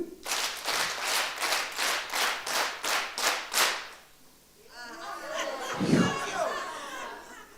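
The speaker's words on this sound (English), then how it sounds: "we're going to give Coach Simpiwe Dludlu 10 claps on 3" An audience at a national advocacy conference claps ten times in unison, sharp even beats filling the room, followed by a burst of people talking and cheering.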